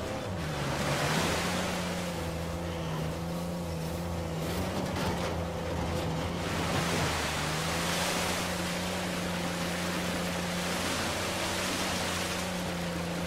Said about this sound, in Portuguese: Até aqui esta queda d'água.